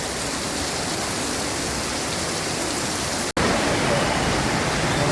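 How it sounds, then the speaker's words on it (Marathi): A dense, unbroken roar of heavy overnight rain on LBS Road, where water has pooled, fills the air, cut by a split-second dropout before it resumes just as loud. "पाऊस खूप आहे"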